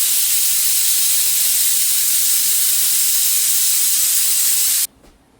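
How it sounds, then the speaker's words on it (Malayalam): A pressure cooker on the stove lets off a loud, steady steam hiss, close and continuous for several seconds before it cuts off abruptly near the end. "അപ്പൊ ഒരു വിസിൽ കേൾക്കട്ടെ."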